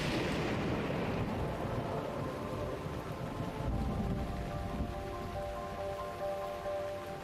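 Steady rain and a thunderstorm sweep across the Tabantha and Hebra region in Zelda, with a dense, continuous hiss of rainfall and low rolling thunder, later joined by faint sustained tones.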